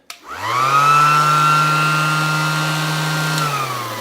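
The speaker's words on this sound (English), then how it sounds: "I stopped using this mouse sander because it's actually more aggressive to a degree. This spins up." A handheld mouse sander spins up from rest into a loud, steady electric whine with a strong droning hum, running evenly for a few seconds in a workshop where an epoxy paddle board is being sanded.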